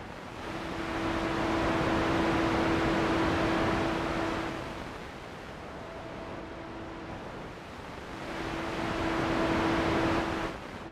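Noise oscillator on a West Pest synthesizer: a broad hissing wash of noise that swells, dips and swells again, with a faint steady hum running underneath, no voices.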